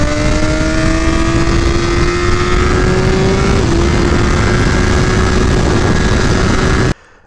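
A 2018 Suzuki GSX-R1000R sport bike on its first ride, engine loud and close with a steadily climbing pitch under heavy wind rush, cutting off abruptly near the end.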